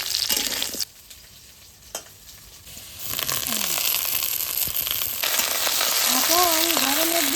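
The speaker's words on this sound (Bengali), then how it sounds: "জোয়ানের তেজপাতাটা ফোড়ন দিচ্ছি, এই উস্তে আলুটা দিয়ে দিচ্ছি।" Bitter gourd and potato hit oil tempered with carom seeds and bay leaf, a loud steady sizzle and frying crackle that swells after a quieter start, with stirring and a voice speaking over it.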